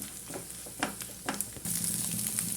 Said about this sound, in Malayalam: നമുക്ക് നല്ലതൊന്ന് ചിക്കി എടുക്കാം